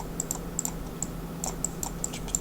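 Computer keyboard keys tapped during After Effects work, a quick irregular run of light clicks, close and fairly quiet, over a low steady hum with no talking.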